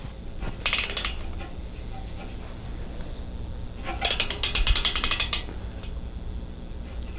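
A ratchet tightens down a jack nut in two bursts of quick, crisp clicking, a short one and then a longer run, over a steady low background hum.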